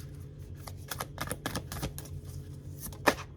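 Tarot cards being handled and drawn from a deck, a quick series of soft shuffling clicks and slaps close up, ending in one sharper snap.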